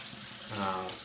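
Tap water runs steadily from a kitchen faucet in a Soviet-era apartment kitchen in Siberia, filling the sink while the cook waits for it to warm enough to wash walnuts; a soft continuous flow, close and moderate.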